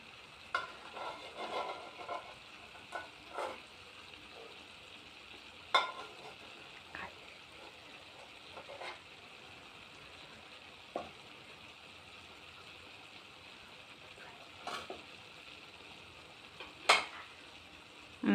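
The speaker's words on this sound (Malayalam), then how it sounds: "കണവ വേവിച്ച കുറേശ്ശെ നമുക്ക് ഇട്ട് കൊടുക്കാം." Cooked squid stir-fries in a pan for a squid thoran, with a soft steady sizzle and scattered scraping and clinking strokes of a spatula spread over the whole stretch.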